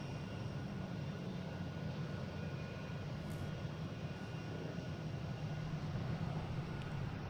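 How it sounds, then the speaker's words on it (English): An Airbus A380 airliner takes off at Boston Logan International Airport, its jet engines a broad, steady roar heard from a distance, fairly faint and sustained throughout without any talk. "That's the A380, clear for takeoff."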